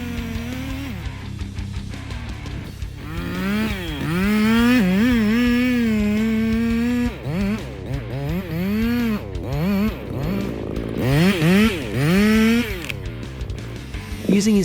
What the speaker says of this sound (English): Using his favorite chainsaw, he sawed down one tree at a time